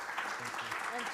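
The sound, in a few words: audience applause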